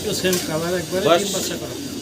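A Bantinet fancy pigeon, a short-beaked breed, coos in soft, throaty warbling notes close by, mixed in with someone talking.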